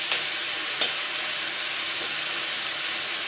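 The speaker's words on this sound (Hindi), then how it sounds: "मसालों को अच्छी तरह से हम भूनने देते हैं।" Spices sizzling and frying in a pan for a taro (arbi) curry, a steady dense hiss with a couple of brief stirring clicks near the start, close and alone.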